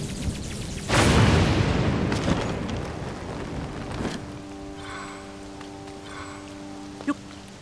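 A thunderstorm over the Thunderhead Isles in Zelda: Tears of the Kingdom: a sudden loud crack of thunder rolls into a long, fading rumble with rain-like hiss, and faint tonal game sounds come in afterward.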